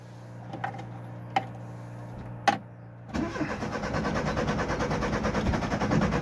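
A 1984 Opel Kadett with a 1.6 engine cranks after a few faint clicks, catches at about three seconds and settles into a steady, close idle that rises slightly in level.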